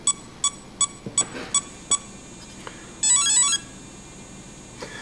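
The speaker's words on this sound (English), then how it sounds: "You could hear the ESC did arm." An RC car electronic speed controller arms with a run of short, evenly spaced electronic beeps, followed by a longer warbling tone and one faint final chirp, close and clear with no talk.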